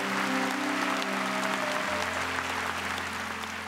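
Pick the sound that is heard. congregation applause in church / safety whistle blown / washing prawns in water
congregation applause in church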